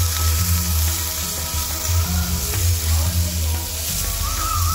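Garlic and tomato hit hot oil in a pan for Puneri misal, giving a loud, close, steady sizzle with a low hum underneath and occasional stirring.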